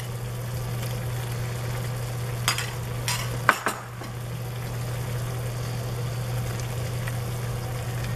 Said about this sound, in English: So at this point, I am going to add the tomatoes.